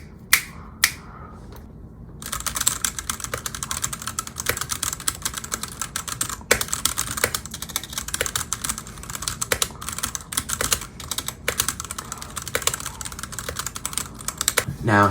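Typing on a stock Wormier K87 mechanical keyboard with Gateron yellow switches: a few isolated key clicks, then steady rapid clacking, close and crisp, with no other sound over it.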